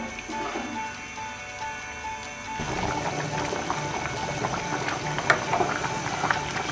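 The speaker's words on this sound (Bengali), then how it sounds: "বলক আসছে পুরোপুরি" Khichuri in a pot on a stove at full flame comes up to a rolling boil: a quiet start gives way to a dense, steady bubbling and simmering hiss, with a few louder pops near the end.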